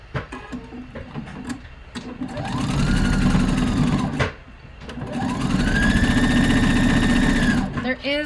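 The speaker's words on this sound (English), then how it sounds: "Let's sew that." A sewing machine stitches the sleeve of a Paddington top in two long, steady runs of close, loud mechanical whirring, separated by a short pause.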